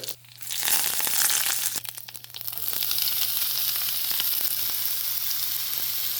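Chillies crackle and sizzle loudly in hot coconut oil, a dense, steady frying hiss that flares at the moment they drop in, then settles into a continuous spatter.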